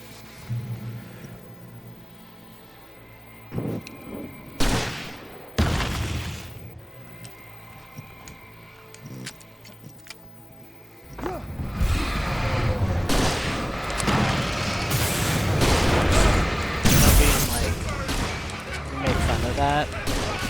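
Flare gun firing in Alan Wake Remastered: a few sharp bursts early on, then a dense, loud stretch of booming shots and rumble through the second half, with a voice talking.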